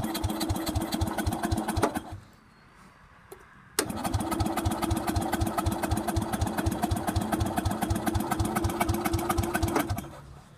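Rare Craftsman riding lawn mower engine, carburetor recently cleaned, running with a rapid steady chug, cutting out briefly, then restarting abruptly and running loud and even until stopping near the end.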